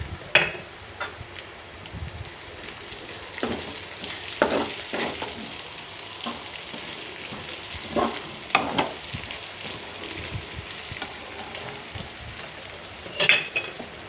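Garlic sizzling and frying in a pan for an ivy gourd (tindora) curry, stirred with a utensil that scrapes and clinks against the pan now and then over a steady hiss.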